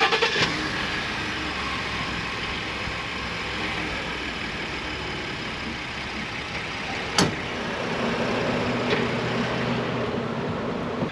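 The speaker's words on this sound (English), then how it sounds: "we just back the truck up" A Ford F-150 pickup backs up straight toward a motor home's tow bar, a steady low engine rumble and broadband road noise running evenly throughout with one sharp click partway through.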